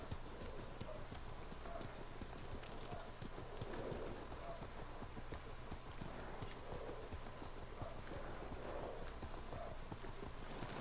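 Horse hooves clip-clop in a steady, continuous rhythm as a rider travels on horseback in the video game Ghost of Tsushima, fairly close and even, with voices talking over the riding.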